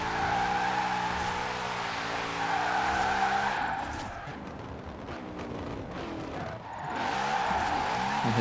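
A car drifts in Forza Horizon 4, its revving engine pitching up and down as tires squeal and screech through the slide, loud and continuous with no talk.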